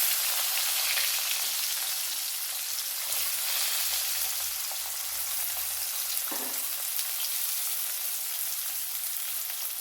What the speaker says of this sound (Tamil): இப்போ பெரிய வெங்காயம் போட்டுக்கலாம்